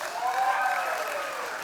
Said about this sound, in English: Please, yes, a round of applause for Josh.